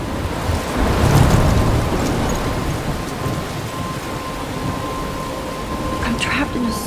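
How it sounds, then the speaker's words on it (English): A thunderstorm in the video game Life Is Strange: steady heavy rain hisses throughout with a low thunder rumble swelling early on, a dense, loud wash of storm noise. "I'm trapped in a storm?"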